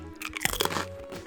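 A lightly toasted, glaze-coated sweet snack is bitten and chewed up close, giving a run of loud, dry, brittle crunches that crackle in quick bursts across the moment.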